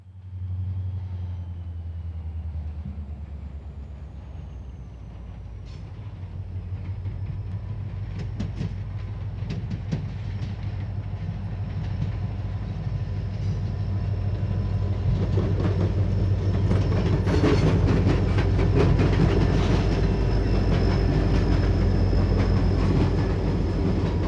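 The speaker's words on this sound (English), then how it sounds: "Westbound RR 231 is taking the track known as the Big Four connection from the Lakefront line to the Big Four or Indianapolis line." Westbound freight RR 231 rumbles along the Big Four connection track from the Lakefront line toward the Indianapolis line, a low engine drone building steadily louder as cars pass with faint wheel clatter and squeal.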